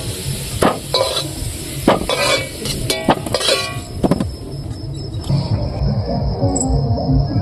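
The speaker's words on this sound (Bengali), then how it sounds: "দেখুন আলুটাও ভাজে নিচ্ছি" Potatoes fry in oil in a pan for a mutton curry, a loud steady sizzle broken by several sharp scrapes and clinks of a spatula, then continuing alone with a thin high insect-like whine.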